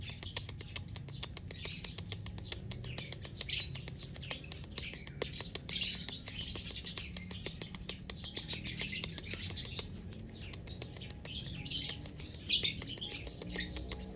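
A person imitates a lovebird mating call with the mouth, producing repeated high chirps and tweets in irregular bursts, faint against a soft steady background.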